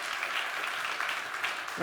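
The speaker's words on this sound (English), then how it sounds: "Guys, a round of applause, please." Audience applause at a digital festival stage event, a steady wash of clapping that fills the short moment, fairly quiet and even, with a voice breaking in near the end.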